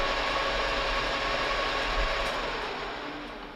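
A Monarch 10EE lathe runs with its half nut engaged for threading, giving a steady low mechanical hum with faint ticking gear and ratchet-like clicks, close by and with no talk.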